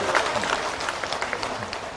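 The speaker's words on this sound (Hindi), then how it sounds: "यदि आनंद आ रहा तो ताली बजा दीजिए" Audience applause at a large religious gathering, a dense wash of clapping hands from a crowd, steady and fairly loud for the whole short stretch.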